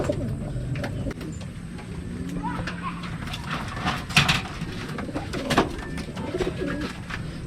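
Racing pigeons coo softly near the loft, with light rustling and scattered thumps and flutters around them, while someone talks over the birds.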